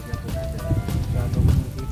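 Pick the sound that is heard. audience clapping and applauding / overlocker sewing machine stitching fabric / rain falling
rain falling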